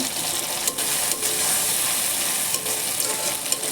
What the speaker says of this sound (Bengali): এখন ভালোভাবে নেড়ে চেড়ে কষিয়ে